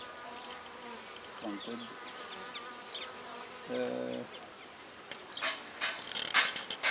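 A honeybee swarm in a ventilated hive with a mirror and window hums with a dense, continuous buzz, close up, with individual bees zipping past louder at moments.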